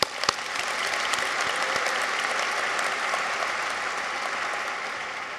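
Steady, dense applause from a large audience at the University of Vermont's 2023 College of Nursing and Health Sciences graduation celebration, holding an even level throughout after a couple of sharp opening claps.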